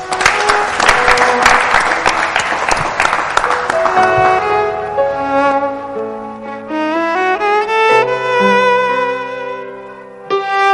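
An audience applauds to welcome a chamber music group, loud, dense clapping for about four seconds that fades as sustained instrumental notes from the group take over.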